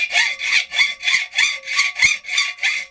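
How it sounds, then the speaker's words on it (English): Hacksaw cutting a workpiece clamped in a vise, close and loud, with nine even rasping back-and-forth strokes in a steady rhythm and nothing else heard. "I'm going to just carry on cutting until I just come around this edge"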